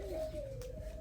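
Doves cooing at a bird sanctuary, a faint low steady coo running through the short moment with soft background noise.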